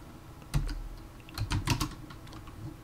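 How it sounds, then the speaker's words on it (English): Keys on a computer keyboard clatter in short bursts, a single tap followed by a quick cluster of strokes, close and clear with no voice over them. "then type Alan"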